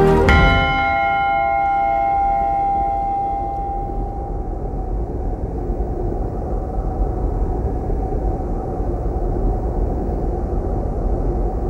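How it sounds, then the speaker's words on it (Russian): The Beslan memorial bell strikes once, a loud deep toll with bright ringing overtones that slowly fades into a long, humming resonance lasting many seconds. "Звонит Бесланский колокол."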